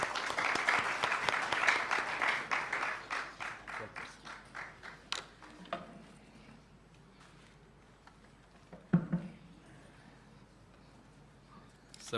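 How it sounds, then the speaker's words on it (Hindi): A church congregation claps to welcome Rev. Dr. Shivraj K. Mahendra to the front: brisk, fairly distant applause that thins out over about five seconds into scattered claps, followed by a quiet room with a few small knocks and shuffles. "आइए हम ताली बजाकर उनका स्वागत करें"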